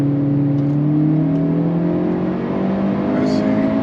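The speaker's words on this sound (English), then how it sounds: "Let's get a little bit of brake boost in 3rd gear." A stage 2 tuned Hyundai Elantra N revs steadily under brake boost in third gear, a loud, close, continuous engine drone with a slowly rising pitch and no break.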